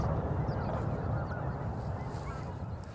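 Sandhill cranes calling, a dense overlapping chorus of loud, honking and rattling calls from a large group, continuous and fairly near, with no talk over it.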